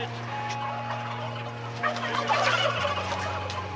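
Turkeys raised for meat gobble in a crowded farm shed, several rattling calls overlapping over a constant low machinery hum, with a brief louder burst of gobbling midway.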